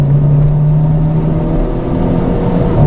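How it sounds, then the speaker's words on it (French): A Renault Clio 4 RS with stainless straight-pipe exhaust outlets idling or running steadily, a loud close low hum with a constant deep tone and no speech. "j'ai mis deux tubes inox à la place sur les sorties, parce que je trouvais vraiment le bruit d'origine vraiment pas fameux quoi"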